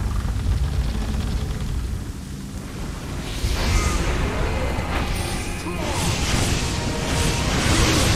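A wind dragon attack in a Nioh boss fight sends out a sustained, roaring rush of wind and crashing noise that swells midway and stays loud throughout, dense and continuous.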